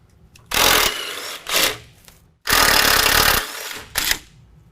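Sway bar bracket bolts on the frame rail of a 2019 GMC Sierra 1500 being spun off with a 10 mm socket on a power tool, heard as two long loud whirring runs, each followed by a shorter burst.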